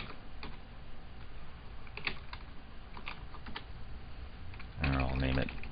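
Quick keystrokes on a computer keyboard as a file name is entered in music software, scattered soft clicks in a quiet room with a louder burst of tapping near the end.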